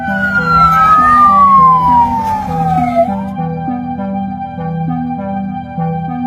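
An air raid warning siren sounds in Israel, a loud wail sweeping downward over a pulsing, stepped two-tone pattern, with no voices.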